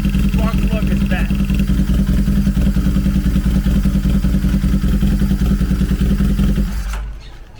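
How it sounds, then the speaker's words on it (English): A Honda CB750 motorcycle engine idles steadily and loud at close range during a spark plug and ignition coil test, its even rhythmic chug holding for several seconds before cutting off abruptly. "The engine ran just the way it ran"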